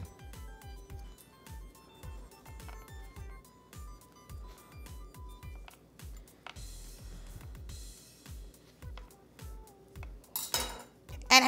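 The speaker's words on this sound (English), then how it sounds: "So I take a knife, and I'm gonna cut it into four pieces." A knife chops through chocolate truffle mixture on a tray, giving a steady run of close, crisp taps and knocks with light clinks of utensils, ending in a louder clatter.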